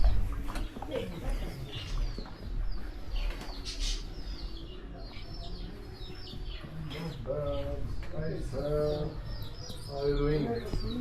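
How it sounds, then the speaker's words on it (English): Small birds calling outdoors in Kashmir: repeated chirps and cooing notes, moderately close, mixed with background voices and street noise. "Yeah, the cheese was a small bird."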